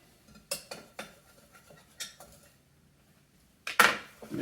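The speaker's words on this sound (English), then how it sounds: "mix the apples in there" Apples being tossed in a mixing bowl for an apple pie, giving a series of sharp clinks and clatters of utensil against dish, spaced out with quiet gaps and ending in a louder burst of scraping.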